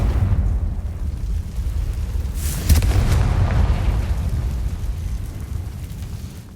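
Fiery Confringo spell blast in the game Hogwarts Legacy, a deep rumbling boom with a sharp crackling burst partway through, loud and sustained with no talking over it.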